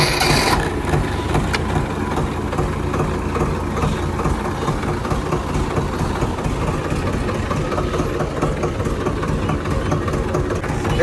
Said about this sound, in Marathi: ओ पप्पा, मला 744 60चा आवाज येतोय.